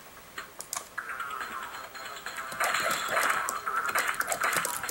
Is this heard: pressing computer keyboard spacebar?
yes